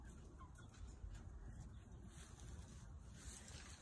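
Backyard chickens clucking around a coop with hay, soft intermittent clucks over a steady low rumble of outdoor background noise.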